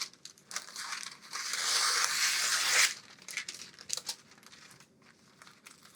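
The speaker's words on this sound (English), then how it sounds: "I get some kitchen wax paper and rip that" Kitchen wax paper is torn off the roll in one loud, rasping rip lasting about a second, preceded and followed by crinkly handling rustles.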